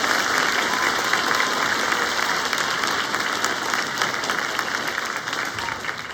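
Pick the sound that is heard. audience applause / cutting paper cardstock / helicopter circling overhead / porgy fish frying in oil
audience applause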